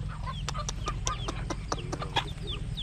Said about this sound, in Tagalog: Morning chicken. Ayan mga chicken namin oh.